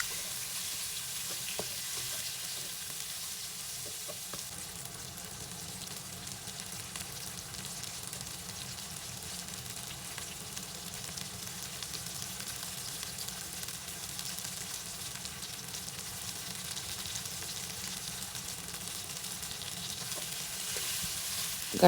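Chicken for Jamaican curry chicken fries in oil with vegetables in a pot, a dense, steady sizzle holding evenly throughout with no talk.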